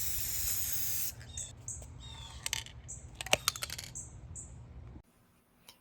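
An aerosol can sprays top coat onto air dry clay ornaments in a series of short hissing bursts with small clicks and taps between them, ending in near silence.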